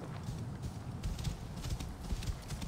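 Horse hooves clip-clop at a steady trot in Assassin's Creed Origins, a continuous moderate rhythm of soft thuds, fairly close, with no talk over it.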